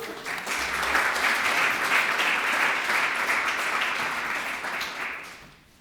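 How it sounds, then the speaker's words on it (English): A crowd at a memorial celebration of life applauds warmly before a musical performance, a full, even wash of clapping that swells early, holds for several seconds and then tapers to near silence at the close. "Let's give him a round of applause."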